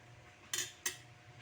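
A metal lid clinks twice onto a cooking pot of chicken tinola with papaya, two short, bright clanks in a quiet kitchen with no talk.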